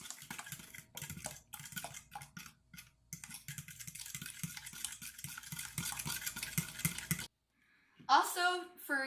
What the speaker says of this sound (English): And then you mix them all together